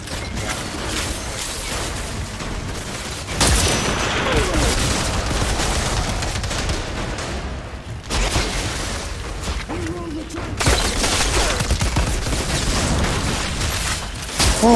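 Sniper gunfire and combat in the video game Outriders, loud dense bursts of shots and booms filling the whole stretch with brief dips between volleys.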